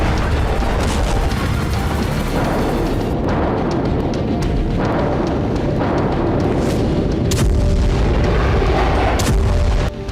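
Explosions at the Zaporizhzhia nuclear power plant in Ukraine, a dense run of loud booms and blasts over continuous rumbling, several sharp bursts standing out, no voices heard.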